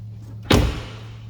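The door of a rusty 1971 Porsche 911S swings shut with a single sharp, close thump and then stops over a steady low hum.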